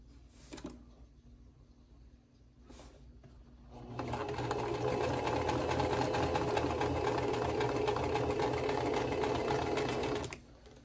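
Sewing machine stitching the corners of a quilt block, a few short stitch bursts followed by a long steady run of fast whirring needle clatter, close and clear with no talking.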